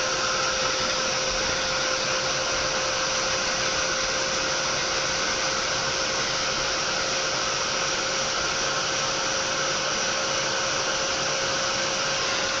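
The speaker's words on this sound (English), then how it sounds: "I'm going to use my Ranger craft tool to just heat it up" A Ranger craft heat tool blowing hot air onto a card: a loud, steady, unbroken fan whoosh with a constant whine, running alone for the whole stretch.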